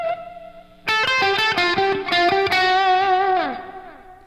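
Electric guitar played through overdrive with a delay effect, a sustained singing note followed by a run of loud, harmonically rich picked notes whose repeats smear together before a bending slide down, with no one speaking.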